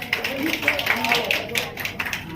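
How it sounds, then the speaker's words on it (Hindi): An audience at a journalism awards ceremony claps in a quick run of sharp handclaps, with voices talking over the clapping. "जोरदार ताली।"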